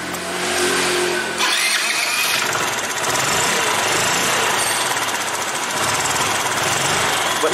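A 50cc automatic scooter with a hard-starting fault fires up and keeps running. A close, loud, rattling engine drone holds steady for several seconds with no talking.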